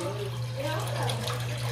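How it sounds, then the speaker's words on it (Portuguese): Tap water runs steadily into a cooking pot, a continuous close rushing pour with a low hum underneath. "eu vou colocar aqui uma panela de água para..."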